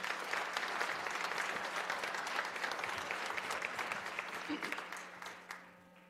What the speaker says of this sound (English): Please join me in a round of applause for these outstanding students